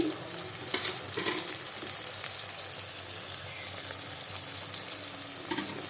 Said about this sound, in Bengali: ভালো করে এর সঙ্গে নেড়ে ভেজে নিচ্ছি খুব সুন্দর রসুনের একটা গন্ধ আসছে